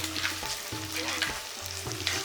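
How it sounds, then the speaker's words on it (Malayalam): Halved onions sauté in a pan for a Kerala coconut-based ivy gourd curry, giving a continuous close sizzle with a few rhythmic scrapes of stirring and no talk. "ഈ ഉള്ളി ചെറുതായിട്ടല്ല രണ്ടായിട്ട് പിളർന്ന ഉള്ളി കേട്ടോ ഇതൊന്ന് നന്നായിട്ടൊന്ന് വാട്ടിയെടുക്കുക"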